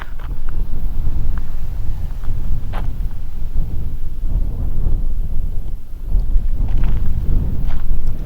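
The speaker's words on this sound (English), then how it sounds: "we're up on the Marlborough Downs near Avebury, and it's always windy here" Strong wind buffets the microphone on the open Marlborough Downs near Avebury, a continuous low roaring rumble with gusts swelling and easing throughout, loud and close with no voices.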